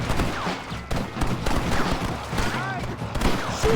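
Rapid gunfire in a Red Dead Redemption shootout, dense overlapping rifle and pistol shots cracking close and far, with voices shouting over the fight.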